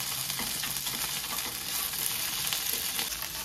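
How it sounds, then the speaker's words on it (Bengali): Dry red chillies and roasted peanuts frying in hot oil for a Kung Pao chicken dish, a close, steady sizzle with light stirring crackles throughout and no talking. "এবারে ভালো করে আবার ভাজবো।"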